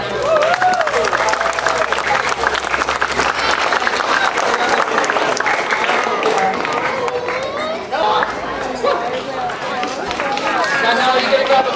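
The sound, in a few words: audience applause for a volunteer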